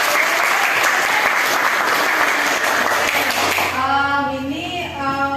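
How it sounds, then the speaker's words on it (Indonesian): A class of students gives dense, steady applause for several seconds in a classroom, which fades as a teacher's voice takes over. "Tepuk tangan dulu."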